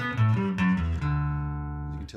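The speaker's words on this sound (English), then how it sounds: "Okay, off. The natural sound of the instrument." Passive bass played through a Fender amp with the pedal switched off, a few sustained low notes ringing with rich harmonics, the last one held and slowly decaying, played alone.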